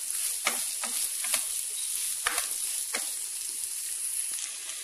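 Onions frying in oil with biryani masala in a rice cooker pot, giving a steady bright sizzle with a few stirring scrapes and clicks, close up, without any voices.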